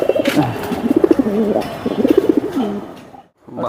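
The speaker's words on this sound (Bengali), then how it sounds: "এটা বশির ভাই লাইনের কবুতর" Silver Bezi and Hammer breed pigeons coo close by in a continuous, rolling series of throaty calls, pausing briefly near the end before starting again.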